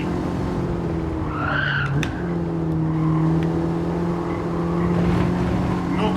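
An old Alfa Romeo car engine in Gran Turismo 7, droning at a steady, fairly loud pitch that dips briefly around braking before holding a continuous hum, with no talk.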